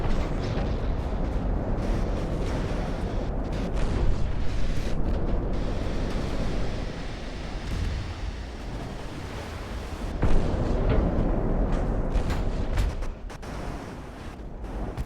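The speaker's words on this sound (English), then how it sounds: "one big volley from the 18-inch guns took out one of his destroyers" Heavy battleship gunfire from an 18-inch main battery volley in the naval combat game Ultimate Admiral: Dreadnoughts, a dense, continuous roar of booms and rumbling blasts lasting throughout, with no voices.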